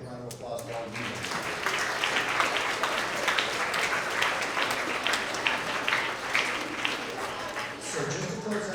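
A room full of people applauds at the close of a gathering, the dense clapping sustained for several seconds with voices talking over it throughout.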